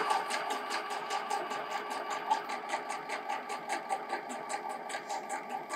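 A sewing machine fitted with a walking foot stitches velvet with cotton thread and a 70/11 universal needle, its needle punching in a fast, steady mechanical rhythm that stays close and even throughout with no talking.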